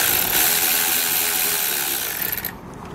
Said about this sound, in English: The nut that's on the vehicle we'll be removing using a 10mm socket.